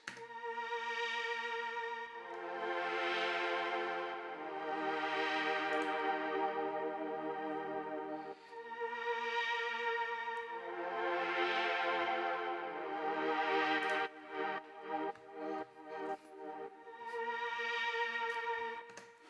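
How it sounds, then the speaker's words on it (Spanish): Plain synth strings without a Super VHS plugin, sustained chords pulsing in slow rhythmic swells with short gaps, a choppier stuttering passage midway, heard alone and fairly soft. "Unos strings normales y si le quitamos el Super VHS."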